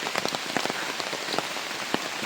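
Steady rain patters on a surface outdoors during a climb up a long stairway, with scattered louder drops standing out against a continuous hiss.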